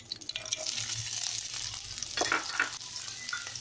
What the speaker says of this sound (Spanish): Acá empezamos a sofreír la cebolla.